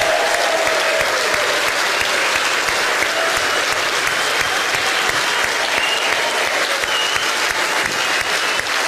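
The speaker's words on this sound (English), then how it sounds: "Give them a massive round of applause." Sustained, dense applause fills a large hall at a Brexit political rally in Doncaster, steady and loud from start to finish with a crowd on its feet.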